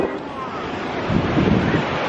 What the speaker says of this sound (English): we out here in Galveston Beach, enjoying the summer.